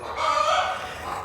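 A hen clucks loudly and steadily in a barn stall, a sustained run of rising and falling calls right after laying an egg, close and alone.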